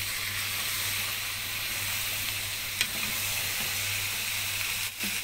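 Carrots tipped into a hot pan for an Egyptian akawi (oxtail) tagine, giving a steady, close sizzle and frying hiss with a low hum beneath and a couple of brief clinks, no talking.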